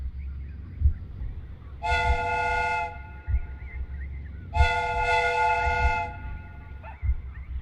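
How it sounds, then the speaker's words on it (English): Two long steady whistle blasts, each about a second, sounded from a replica steam train in a Sherlock Holmes video game, clear harmonic tone over a low rumbling background with gaps between. "The steam whistle is ready to be used."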